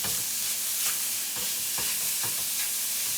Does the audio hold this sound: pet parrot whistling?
no